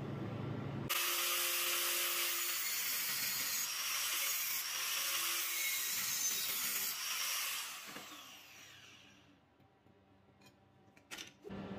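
A power tool cuts a slot into a bushing mount for a Land Rover Range Rover Classic electric TRW servo pump conversion, a loud sustained high whine that winds down near the end, followed by a few faint clicks.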